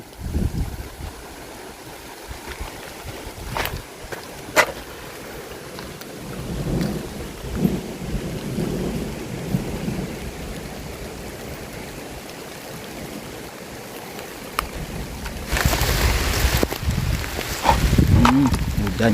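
Heavy rain pours steadily at a garden hut with low rumbles of thunder rolling through, the downpour swelling louder near the end, while people talk faintly under the noise.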